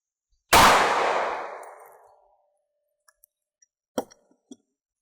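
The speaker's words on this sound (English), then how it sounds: "So, one more shot with the SIG." A single loud SIG pistol shot into a refrigerator, a sharp close blast with a long ringing decay, followed by a few faint clicks and small metallic taps.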